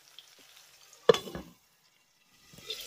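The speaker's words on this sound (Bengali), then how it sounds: "এই তেলের সঙ্গে খুব ভালোভাবে কষিয়ে নেব।" Tomato sautéing in oil in a pan over medium-low flame, mostly quiet with one brief burst of stirring and sizzle midway and a faint return near the end, close by.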